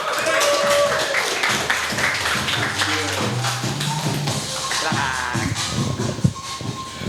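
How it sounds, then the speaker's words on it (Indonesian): A live Indonesian football talk-show crowd gives a new guest a thick, continuous round of applause that fills the room. Voices mix in with the clapping throughout. "beri tepuk tangan buat teman baru kita, Gio"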